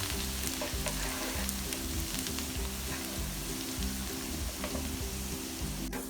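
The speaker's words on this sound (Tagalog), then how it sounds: "Isutay natin ang garlic. Hintayin po natin maging brown ang ating garlic." Garlic frying in hot oil for chicken sotanghon guisado, a dense continuous sizzle with a low steady hum underneath, loud and close.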